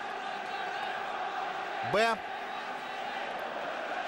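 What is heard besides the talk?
Ukrainian football fans in stadium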